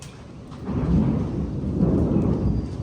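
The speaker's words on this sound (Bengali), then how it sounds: "মেঘ ডাকতেছে" Low rolling thunder rumbles continuously through a steady wash of rain starting to fall in an open garden by a boundary wall, loud and close throughout with no voices.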